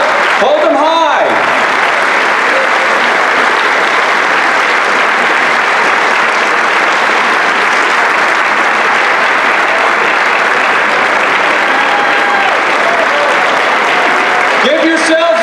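A large crowd at an evening rally applauds itself. The applause is loud and dense, holds steadily for about fifteen seconds and carries a wash of voices and cheering.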